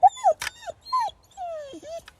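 A dog whimpers and whines in high, wavering cries broken by short yips and a low growl, close and fairly loud, with no speech.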